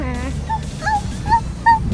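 A person mimics a puppy's whimper in a series of three or four short, high whining yelps, close and fairly loud, after a brief low vocal sound.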